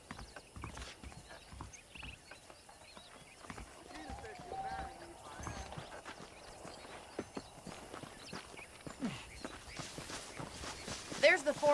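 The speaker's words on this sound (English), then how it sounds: "The horses are saddled up over here." Saddled horses clip-clop along at a walking pace in the Red Dead Redemption western game, with steady, fairly quiet hoofbeats under a man's speech.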